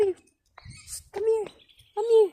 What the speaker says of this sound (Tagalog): The bird is here.